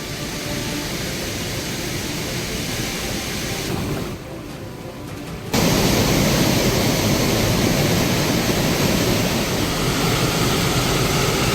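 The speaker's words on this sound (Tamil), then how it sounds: "மேற்கு தொடர்ச்சி மலைப்பகுதியில் பெய்து வரும் கனமழையால் மணிமுத்தாறு அருவியில் வெள்ளப்பெருக்கு" Manimuthar waterfall in flood after heavy rain in the Western Ghats, a dense continuous roar of rushing water that drops briefly quieter before surging back loud and steady.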